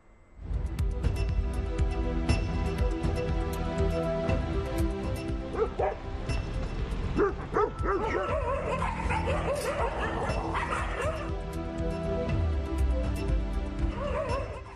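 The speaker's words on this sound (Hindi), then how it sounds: "लावारिस कुत्ते राह चलते लोगों के लिए खतरा बन चुके हैं।" Stray dogs on a city street bark, yip and whimper close by in repeated, overlapping bursts with no pause.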